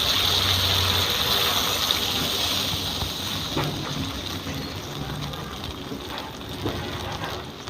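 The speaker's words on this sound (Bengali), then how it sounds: "এবার আমি জল দিয়ে দেব।" Water pours into a pan of spiced curry masala frying in oil, a steady gushing splash that tapers into softer sizzling and bubbling, heard close with no talking.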